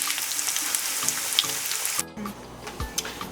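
Korean corn dogs fry in hot oil with a steady, dense hiss and crackle, close and loud, before cutting to a quieter background with faint bubbling.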